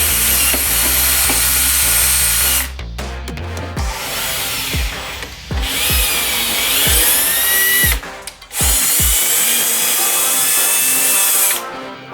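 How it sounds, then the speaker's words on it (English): A power drill bores and then taps a hole in a metal part for a locking screw on an off-road crazy cart build, loud and close, running steadily with several brief stops and restarts. "drill a hole in it right here and tap it"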